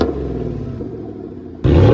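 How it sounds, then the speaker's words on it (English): Coyote V8 engine in a Raptor-R-style truck with a Borla exhaust, rumbling at idle close up, then a sudden loud rev near the end. "it's Coyote V8, the way trucks should sound."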